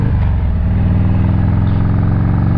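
A motorcycle rides along a Georgia highway with a loud, steady low engine drone and rumble, close and continuous, with rhythmic pulsing at cruising speed and no speech over it.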